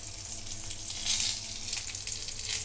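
Stuffed brinjal dropped into hot oil for crispy Sindhi-style fried eggplant, a steady close hiss and sizzle that swells briefly and holds throughout.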